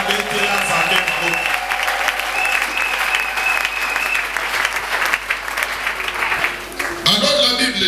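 A church congregation applauds and cheers the Lord, with loud, sustained clapping and crowd voices filling the room throughout and swelling again near the end.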